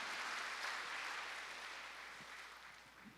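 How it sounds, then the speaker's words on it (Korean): Faint, dense applause from a church congregation during a Sunday morning service, a soft wash of many hands that fades gradually, heard at a distance without any voices. "하나님께 영광의 박수 올려드리겠습니다."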